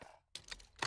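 Reload of an MG82 light machine gun in COD Mobile: a short mechanical clack, brief pause, then two or three quick metallic clicks and snaps close up, ending in a sharper latch sound.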